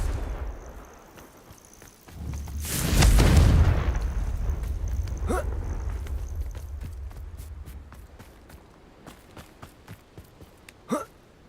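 A Confringo fire spell in Hogwarts Legacy bursts into a loud broad explosion that swells and slowly decays, followed by scattered sharp pops and crackles, with no talking.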